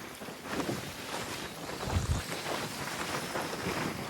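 Strong wind at sea buffets the microphone in a continuous rushing roar, with occasional low gusts and a faint watery wash beneath.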